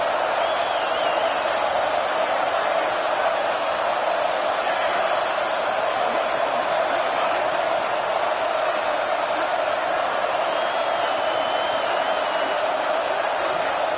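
A huge college football stadium crowd at Clemson versus Ole Miss roars steadily near the goal line, a dense continuous wall of noise with no pauses, heard alongside a commentator's voice.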